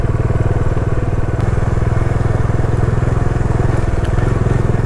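A motorcycle is ridden through a remote area near the India-Bangladesh border. Its engine runs loud and close, with a steady rapid thrum and even rhythmic pulses and no pause.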